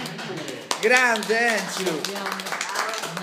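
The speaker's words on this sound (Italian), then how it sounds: "Io farei un grosso applauso" People clap for Enzo Marcacci, composer of the Fiorentina football anthem, during an Italian interview; rapid claps patter beneath a loud, cheering voice that shouts over them throughout.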